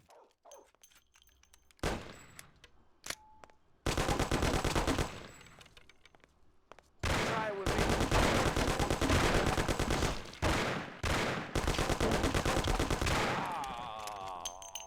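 Gunfire in the video game Mafia, a few isolated shots followed by long, loud bursts of rapid automatic fire, with brief gaps between volleys.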